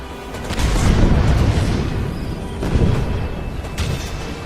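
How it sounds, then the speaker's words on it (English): Deep artillery booms in the video game Toy Soldiers, heavy rumbling blasts rolling one after another, loud and close with a few sharper pops between them. "I like that the artillery is firing on the tank and not the guys"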